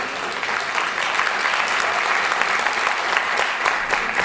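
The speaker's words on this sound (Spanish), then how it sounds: "Un aplauso, por favor." An audience at a medical conference on peptones and biological medicine applauds steadily as a speaker is welcomed, a dense, sustained clapping that stays even and loud throughout.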